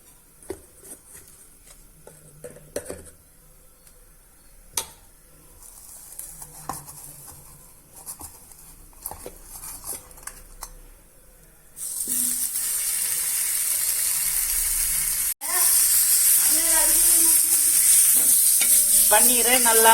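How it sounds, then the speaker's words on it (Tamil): Paneer frying in a little oil with chilli powder and salt on a flat iron dosa pan, quiet scraping and stirring at first, then a sudden loud, steady sizzle that continues to the end, close by. "அதை தான் இப்போ தோசைக்கல்ல போட்டு கொஞ்சமாக எண்ணெய் ஊற்றி காரம் உப்பு போட்டு பன்னீரை அதில் போட்டு எடுத்துக்கலாம்"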